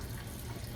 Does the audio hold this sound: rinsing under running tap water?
yes